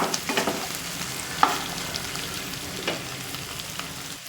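Okra seasoned with salt and turmeric sizzles in a frying pan as a spatula stirs it, giving a soft crackling bed marked by several sharp scraping knocks, one louder around the midpoint, with no speech.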